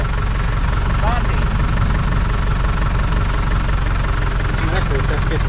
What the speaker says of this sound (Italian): Adesso sta scherzando lui, il trattore.